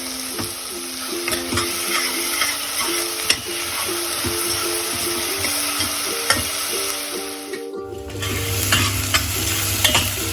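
Onions browning with sugar in a pan for green chickpea pulao, a steady bright sizzle under repeated scraping stirs; the frying noise drops briefly near the end, then returns lower and fuller.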